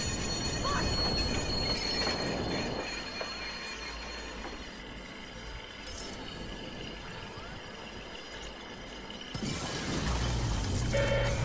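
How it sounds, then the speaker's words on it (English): Train pulling into a station in the Watch Dogs game, a loud roar of railcars with sustained high wheel squeal that eases to a quieter rumble before the noise swells again near the end. "ground train arriving shortly"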